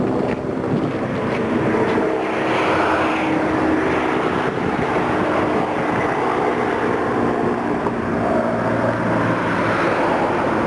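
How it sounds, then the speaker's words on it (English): A steady, broad engine and rotor drone from a helicopter overhead during Red River flooding, continuous and fairly loud with wind rumble, no talking. "all the helicopters that are around lately"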